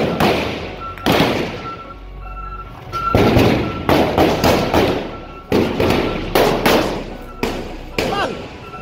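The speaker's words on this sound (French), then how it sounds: "Nèg ap tire avon police Kenya yo." Gunshots ring out as men fire at Kenyan police, a rapid irregular series of sharp loud cracks and thumps, some in quick bursts, with voices audible between the shots.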